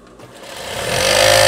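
A sewing machine stitching elastic onto a veterinary coverall speeds up steadily from quiet to a loud, close, continuous whir, with no voices.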